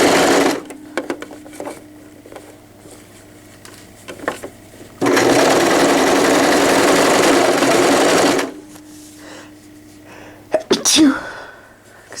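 A home sewing machine stitches fabric around a curve, running in short bursts and then one steady loud run of several seconds, with a sneeze and rustling near the end.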